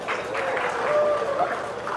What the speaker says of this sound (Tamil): கைத்தட்டு வராதது இப்ப வருது பாருங்க